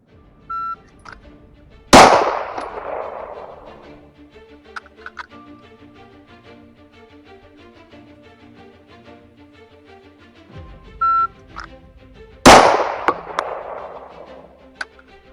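Two loud, sharp pistol shots about ten seconds apart, fired through a DPM recoil reduction system with a Radian Ramjet and Afterburner, each followed by a ringing decay, with faint ticks and clicks between them.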